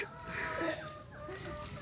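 F1 chickens on a farm clucking and murmuring softly, a few faint close clucks over a low background hum, with no clear talk.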